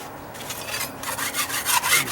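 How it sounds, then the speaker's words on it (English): A hand scraper rasps over weathered wooden deck stairs being prepped for paint, giving rough, repeated scraping strokes up close that build in loudness toward the end, with no talking. "I use this to scrape"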